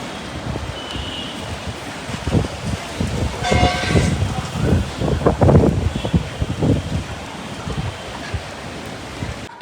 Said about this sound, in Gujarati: વાવાઝોડું આવી ગયું સુરતની.